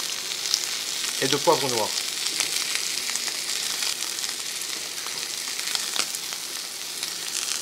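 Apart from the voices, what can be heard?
Montfort duck breast searing plancha-style in a pan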